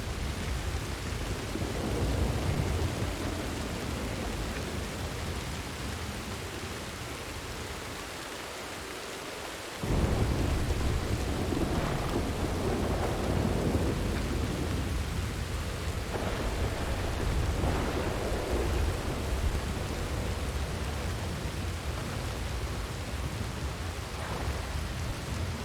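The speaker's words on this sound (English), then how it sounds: "I haven't heard lightning like that in years." A thunderstorm in the Red Dead Redemption 2 video game: heavy, steady rain hisses throughout while loud rolling thunder rumbles in long waves, with a sharp close crack partway through.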